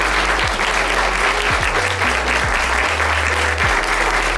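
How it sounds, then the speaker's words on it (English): A loud, dense round of applause rises from the audience at a community film series panel on mental health, honoring the panelists and filmmakers with continuous clapping throughout. "I want us to give another round of applause for these panelists"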